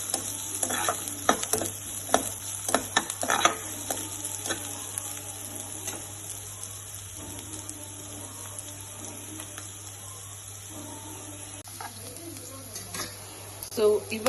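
Ginger, garlic and green chillies frying in a pan, with a steady sizzle and scattered stirring clatter from a spoon against the pan, close and continuous.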